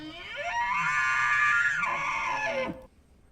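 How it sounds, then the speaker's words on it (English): An elk yell sound effect from a video game about the rut rises into a loud, strained, high scream-like bugle lasting about two seconds. It bends downward and breaks off abruptly at the end. "our elk yells"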